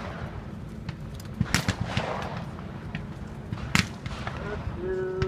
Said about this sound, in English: I'm always shooting from the hip or down low somewhere, or over top of my head